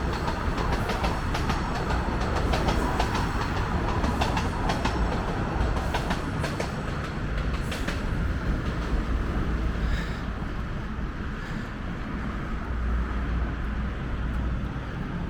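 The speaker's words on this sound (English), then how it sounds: "as a northbound train rolls by." A northbound subway train rolls steadily past at St. Clair Station in Toronto, a loud continuous rumble with clattering wheels and rail noise that eases slightly near the end.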